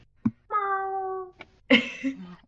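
A person vocally imitates a cat, giving one long, drawn-out meow and then a shorter, rougher one, broken up by small mouth clicks and a brief cough-like sound, close and clear.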